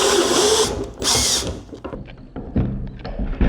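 Cordless power drill, DeWalt on Milwaukee gear, whirring in loud bursts with a pause and ratcheting clunks between runs, close by with no talking.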